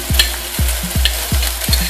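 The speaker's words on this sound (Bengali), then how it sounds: "এবার টক দইটা ভালোভাবে ফেটিয়ে নিয়ে আমি দিয়ে দেব।" Spices frying in a pan as whisked sour yogurt goes in, a constant hissing sizzle broken by quick rhythmic clacks of a spoon stirring against the pan, close and fairly loud.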